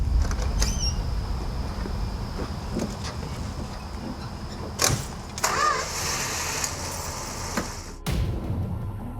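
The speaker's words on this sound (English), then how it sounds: "A Rambler is coming down the driveway." A Rambler car rolls slowly down a driveway at night, a low engine rumble with faint creaks and a few sharp knocks and thumps, fairly quiet and distant.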